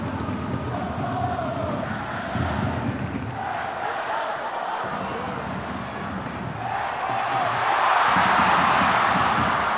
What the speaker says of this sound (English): The crowd enjoyed the build up there.